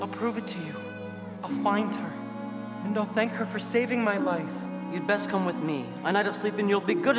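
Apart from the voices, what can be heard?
No everyday noise stands out behind the speech.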